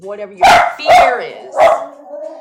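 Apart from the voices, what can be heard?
dog barking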